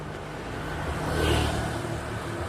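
A Honda Vario Gen 2 scooter pulls away on a test ride after frame repair, its engine giving a steady mid-pitched drone that swells briefly as it accelerates, heard from a short distance with no talk.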